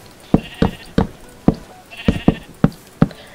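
Sheep bleating in the Minecraft video game, a string of short, sharp bleats repeating roughly every half second, close and clear with nothing else over them.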